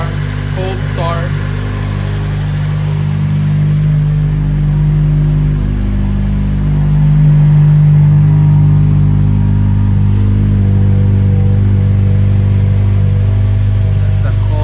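A 2004–05 Acura TSX engine runs loudly and steadily after a cold start, a constant close idle with a slight rise in revs midway through.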